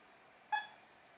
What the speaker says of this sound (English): when you hear a beep tone, indicating you can now speak to the voice assistant on your smart device